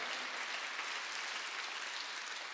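A church congregation claps steadily during a Korean worship service, a dense, continuous wash of many hands with no pauses, fairly distant and even in level throughout.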